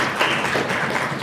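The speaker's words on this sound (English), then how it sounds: "that's just a round of applause, please." An audience gives a round of applause at a local government conference, a dense continuous patter of clapping heard close and fairly loud for just over a second.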